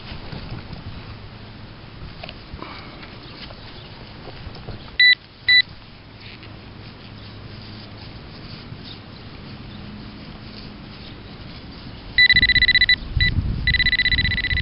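A metal detector giving short double beeps, first a brief pair and later a longer, louder repeated beeping, over faint background noise outdoors.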